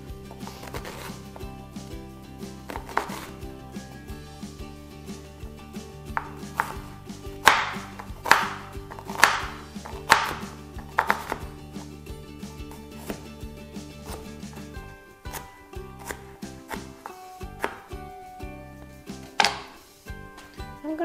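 A sweet onion being chopped with a knife on a cutting board: scattered sharp knife thuds, some in quick bursts, close and clear over a low steady background hum.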